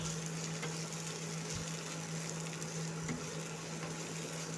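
Half a chopped tomato sautés gently in a pan for a simple Kerala-style egg roast, giving a quiet, steady sizzle with a low hum underneath and an occasional soft stir.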